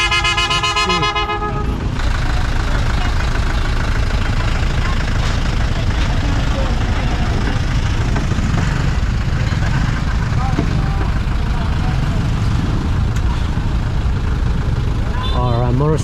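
A big truck squeezing through a tight marketplace on a mountain road, its engine rumbling loudly and steadily up close, with a horn toot at the start and street bustle and voices around it.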